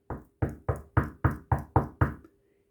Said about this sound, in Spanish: y estando fuera, empecéis a llamar a la puerta